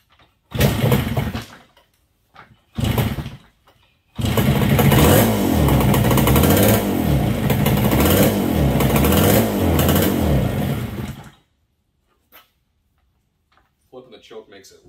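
A 1969 Yamaha DS6 motorcycle engine runs rough and boggy, likely a carburetor fault. It comes in two short bursts, then a long uneven run with a pulsing, stumbling note, loud and close, and then cuts off.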